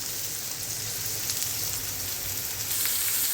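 Onion frying in hot oil in a pan, a dense steady sizzle and crackle at close range with no pauses.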